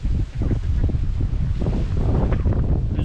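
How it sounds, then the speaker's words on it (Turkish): Continuous wind buffeting the microphone on a cattle pasture in November, a rough low rumble that stays loud throughout with no other clear sounds. "rüzgar var"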